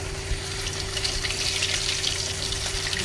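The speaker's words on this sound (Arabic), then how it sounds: "بدي اقلي السمك" Fish frying in a pan of hot oil for a seafood rice dish, a steady close crackle and hiss with a low mechanical hum running underneath throughout.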